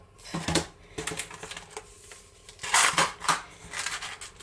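A package of pencils being opened, with crinkly tearing and crackling of wrapping in several irregular bursts, the loudest near the end, close and without speech.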